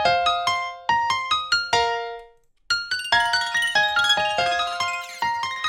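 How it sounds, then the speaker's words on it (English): Bell-like piano melody through the Portal preset in FL Studio plays a run of bright plucked notes, pauses briefly, then resumes in a denser shimmering phrase, alone and clear. "The Portal preset, if I just play it with, for example, the piano melody by itself"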